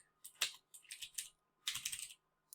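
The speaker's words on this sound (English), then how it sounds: "now you have to wait for me to type it again" Typing on a computer keyboard during a lecture: a few quick bursts of key clicks separated by short pauses, close and fairly quiet, with no talking.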